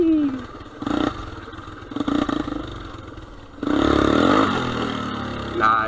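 A Tractor Supply four-wheeler ATV engine revs in bursts at close range, rising and falling with throttle blips and then holding a louder sustained roar, with voices briefly in the mix.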